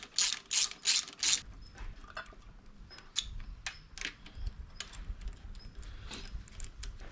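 Ratchet clicking close up while loosening the cylinder head bolts on a Suzuki Alto Works F6A twin-cam engine, starting with a few loud bursts of clicks followed by quieter, irregular ratcheting and metallic handling noises.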